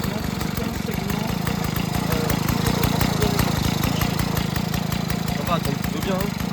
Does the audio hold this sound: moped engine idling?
yes